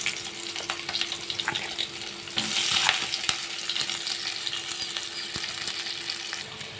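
Whole garam masala and onions frying in hot oil for paneer butter masala, a steady close sizzle with a brief louder surge partway and occasional light clicks of stirring, no talk.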